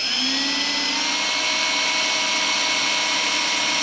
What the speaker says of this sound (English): I'm going to drill a hole